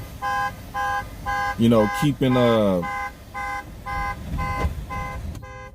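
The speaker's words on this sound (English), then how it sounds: "Come on, bitch, turn your fucking alarm off." A car alarm blares nearby in a repeating pattern of evenly spaced tonal blasts, broken by a faster warbling siren phase, while someone talks over part of it.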